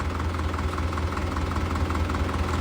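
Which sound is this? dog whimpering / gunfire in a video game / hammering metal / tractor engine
tractor engine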